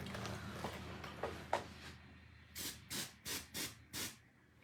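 Hair spray misted onto hair in a sleek high bun: five short, sharp aerosol hisses in a quick, even rhythm, close and clear, following some quieter handling sounds.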